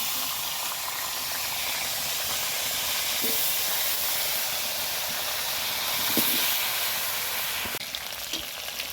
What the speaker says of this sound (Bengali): আলুগুলো ভাজবো এখন